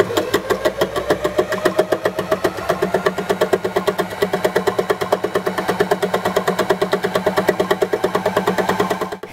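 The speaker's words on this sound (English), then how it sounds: "The embellishing machine should always be run at full speed or you risk breaking your needles." Felt embellishing machine running at full speed, its needles punching fabric in a fast, steady mechanical chatter, close and loud throughout.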